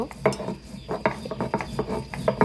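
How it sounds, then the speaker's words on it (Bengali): Fried onion, garlic, green chilli and tomato are ground on a stone pata, a close rhythmic run of gritty scraping and rolling strokes with soft knocks of the grinding stone, no talking. "পাটায় নিয়েছি, এটা আমি এখন বাটবো। এখন আমি এটা বেটে নিব।"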